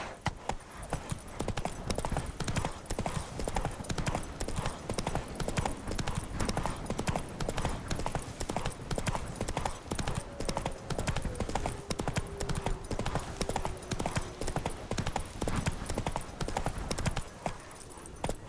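Horse hooves gallop in steady, rapid clip-clop rhythm throughout The Witcher 3 game world, loud and close, with a faint tonal sweep partway through and the beat stopping just before the end.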